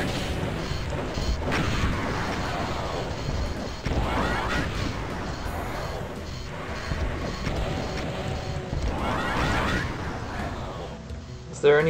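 Rocket launcher fire in ZDoom, the Doom engine port, comes as heavy booming blasts and crashing impacts over a continuous, loud game soundscape, with someone talking throughout.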